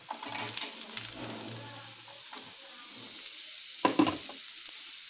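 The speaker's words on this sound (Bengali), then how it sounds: "এবার গাজরটা একটু ভেজে নেব।" Carrot fried in a pan for egg and vegetable chowmein gives a soft, steady sizzle with faint stirring, fairly quiet and close, with a brief louder clatter near the end.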